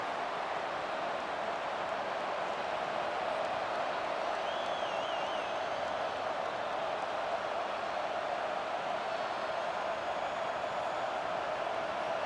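Stadium crowd noise from EA College Football 25 during a Texas Longhorns at Michigan Wolverines game, a steady, dense roar of cheering that holds at an even level throughout with no talk over it.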